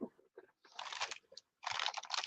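Someone bites into light, crunchy Ritz crackers close up, loud crisp crunches in a few bursts separated by short quiet gaps.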